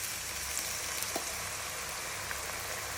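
Breadfruit slices fry in coconut oil with a steady, dense sizzle and crackle that holds evenly throughout, close and moderately loud, with no voices.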